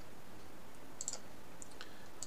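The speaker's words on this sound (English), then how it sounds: "you want to go ahead and just remove it by clicking the X" Faint computer mouse clicks, a couple of quick light taps close together, removing a search job on a computer, over a steady quiet room hiss.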